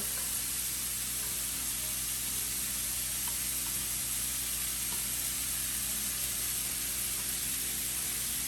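Carrots and celery sizzling steadily in a pan with rendered beef fat for ossobuco, a soft continuous hiss with no talk over it.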